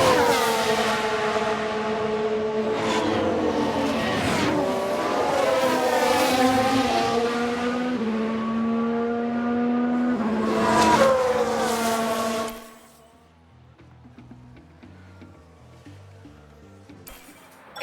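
A Ferrari Formula 1 car in the racing game F1 Manager 2022 runs wide with a loud, close, high-pitched engine whine that rises and falls with gear changes for about twelve seconds, then drops off abruptly to near silence.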